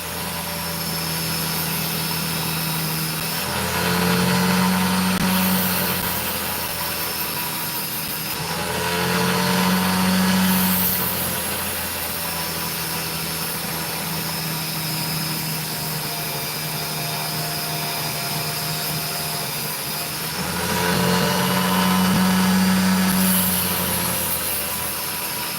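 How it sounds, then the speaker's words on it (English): A drill whirs steadily for a long stretch while cutting opals, its pitch and loudness swelling three times as the load changes, with a constant mechanical hum beneath. "I'm going to stop this drill for just 1 second"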